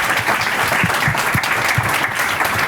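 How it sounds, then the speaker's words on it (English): An audience applauds a conference panel on diversity, equity and inclusion: loud, close, continuous clapping filling the whole short stretch, with a few heavier low thumps mixed in. "Can we give a round of applause to this amazing panel?"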